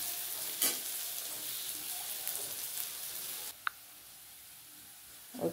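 Onions fry in a pan for a mustard-paste fish dish, giving a steady close sizzle that drops to a quieter hiss partway through, with a sharp utensil clack and no talk.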